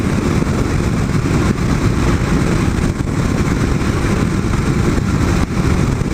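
Kawasaki KLR 650 dual sport motorcycle engine while riding through Tri-Cities, Washington: a steady, loud, close engine drone with wind rush, constant throughout with only brief dips.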